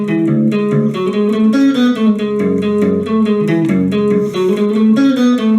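Electric guitar plays the closing bridge riff of a song, steady picked notes over a droning open low string, loud, continuous and close, no voices.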